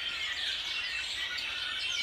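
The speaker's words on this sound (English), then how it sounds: "we have birds singing up in the tree" Birds sing in a tree during snowfall, as a dense wash of high chirping and twittering, steady and moderately distant, with no talk.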